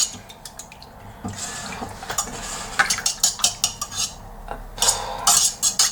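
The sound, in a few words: whisking yogurt into a mixture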